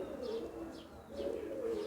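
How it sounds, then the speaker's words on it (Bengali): Pigeons in a pigeon loft coo softly in low, rolling murmurs that swell and fade, with faint chirps above and no voices. "দেখতে থাকেন, আরও অনেক কবুতর দেখাচ্ছি আমার লফটের"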